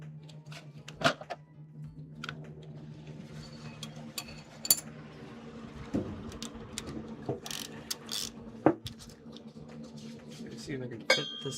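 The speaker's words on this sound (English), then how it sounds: "So let me get a wrench with a socket." Ratcheting clicks from a 5/8 socket wrench working on a 1982 Corvette under restoration, coming in short bursts with metallic clinks and tool handling, close by and fairly quiet.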